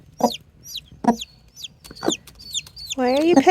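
A mother hen near hatching chicks gives a few sharp, close clucks, with high peeping chick chirps between them and a louder rising call at the end.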